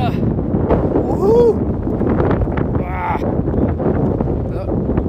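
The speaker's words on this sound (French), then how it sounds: "Un vent de fou!" Strong gusting wind buffets the microphone during an outdoor run beside a river, a loud, continuous low rumble with rushing surges, while voices briefly shout over it.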